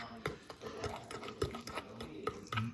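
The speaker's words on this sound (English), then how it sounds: "mix it up to create a paste" Ginger and spices being stirred into a thick paste in a bowl, with soft scraping strokes repeating at an uneven pace, quiet and close.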